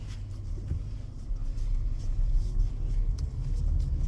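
A car engine gives a low, steady rumble from inside the vehicle while a boy drives it by himself for the first time.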